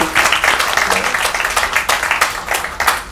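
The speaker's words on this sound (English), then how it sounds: "Can everyone applaud for them?" Audience applause for a panel of forensic science speakers at a Drug Enforcement Administration lecture, a steady wash of many hands clapping, fairly close and loud throughout with no talk over it.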